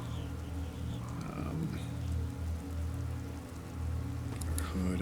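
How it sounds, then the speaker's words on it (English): Rain falls steadily in a video game, a continuous patter on surfaces with a low background hum beneath it, moderately loud and without a break. "And now it's gonna rain."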